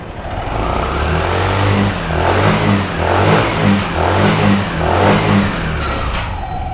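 A Yamaha Aerox or NMAX scooter with a YECVT fault that refuses to shift revs in steady repeated surges, its engine note rising and falling in loud, close pulses over a constant mechanical drone, with no voices.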